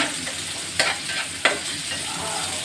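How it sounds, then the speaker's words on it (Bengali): Onions frying in oil until browned for pilau crackle with a dense, continuous sizzle, broken by two sharp stirring scrapes close by. "এখানে আমি পেঁয়াজগুলো ভাজি নেব, লাল লাল করে পেঁয়াজগুলো আমি"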